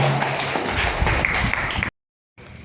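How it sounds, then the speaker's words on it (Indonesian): A classroom group claps for a man during a teacher-training lesson, with dense, steady applause lasting about two seconds before breaking off abruptly. "tepuk tangan untuk Bapak"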